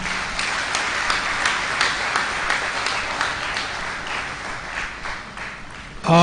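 Seminar audience applauding after a speech on the Finance Act 2019, a dense, steady wash of clapping that holds for several seconds before a sharp, loud burst at the very end.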